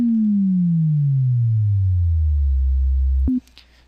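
Synth bass in NI Massive with both pitch settings at -24, sliding steadily downward into a deep sustained rumble for about three seconds before cutting off abruptly, leaving a short blip and quiet tail.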